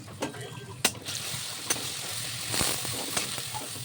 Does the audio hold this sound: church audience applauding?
no